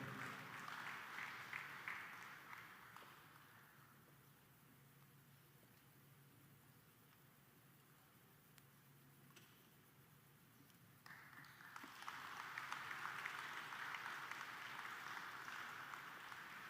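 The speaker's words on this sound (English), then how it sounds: "Ladies and gentlemen, a round of applause and congratulations" Applause from a crowd at an official ceremony for the President, with loud clapping at the start that fades to a soft wash, then swells back up strongly near the end.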